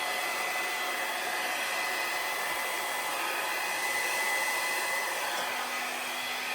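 Blown air pushing a Dutch-style acrylic paint pour across a canvas. A loud, steady, broadband whoosh like a hair dryer runs without a break from start to finish.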